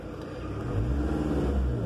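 A Peugeot Partner engine revs up as the accelerator is pressed, a steady low rumble that swells in loudness partway through and holds, close and without talk.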